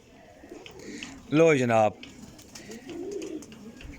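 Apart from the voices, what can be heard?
pigeons cooing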